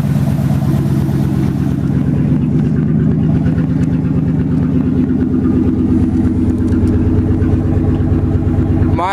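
A used car's engine runs at a steady idle close by, a loud, even mechanical rumble with a regular pulsing throb that holds unchanged throughout, with no talking.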